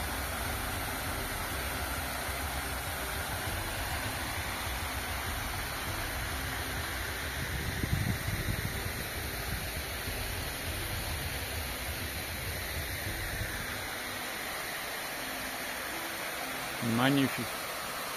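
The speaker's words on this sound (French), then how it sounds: "Regardez ces jolies cascades qu'on a juste à côté du camping, avec un lavoir." Small waterfalls beside a campsite next to an old wash house give a steady broadband rushing of falling water, close and constant, with a brief spoken remark.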